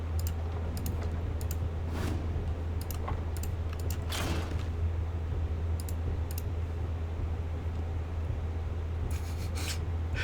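Typing on a computer keyboard, scattered key clicks and short bursts of taps over a steady low hum, fairly faint and close, with no talking.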